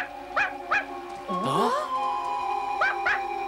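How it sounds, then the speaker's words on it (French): Cartoon dog barking in a French-dubbed animated Zorro series, a few sharp yelping barks separated by pauses, with a voice interjecting briefly between them. "Mais pourquoi tu aboies comme ça?"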